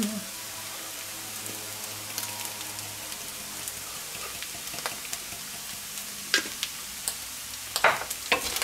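A potato pan with bacon and egg crackles and sizzles at a moderate level. Spatula scrapes and knocks get sharper toward the end as the food is stirred.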